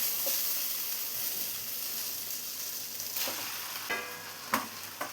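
Masala-coated chicken added to a hot pan for chicken perattu: a constant loud sizzle with a few spoon taps and scrapes, close up and without voices.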